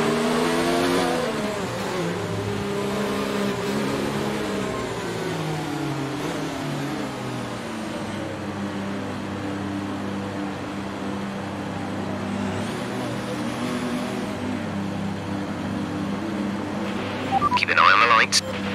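An F1 2019 race car engine in the video game holds high revs at a practice start, a steady buzzing drone that shifts pitch under continuous talking, with a brief clatter near the end.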